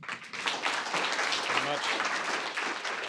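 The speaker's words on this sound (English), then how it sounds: "So another round of applause for Johnathan." Audience applause for a speaker at a talk on storytelling with LinkedIn, a steady wash of clapping from a crowd with voices mixed in.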